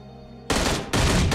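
A skill in PUBG Mobile zombie mode fires grenades, heard as two loud, dense explosive bursts right after a quiet electronic hum, close and overpowering.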